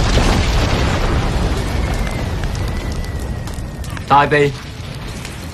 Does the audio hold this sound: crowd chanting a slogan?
no